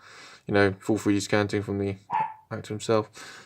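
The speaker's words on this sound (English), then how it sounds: "Sorry if you can hear dogs barking in the background." Dogs bark from downstairs in a home, muffled and intermittent beneath steady nearby speech from someone talking.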